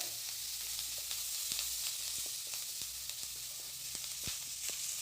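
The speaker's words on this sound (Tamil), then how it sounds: "கொஞ்சமாக கருவேப்பிலை போட்டேன்." Curry leaves sizzle in hot oil in a frying pan, with chopped small tomatoes and salt for a wild mushroom fried rice, giving a steady close crackle with sharp pops scattered throughout and no talk.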